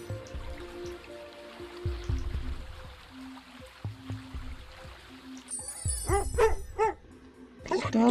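In the Little Folk of Faery video game, a dog gives several short, rhythmic yips and barks over ambient game music, with a brief run of closer, sharper barks toward the end.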